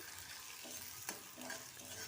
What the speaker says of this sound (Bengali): এরপর পেঁয়াজটাকে লাল লাল করে ভেজে নেব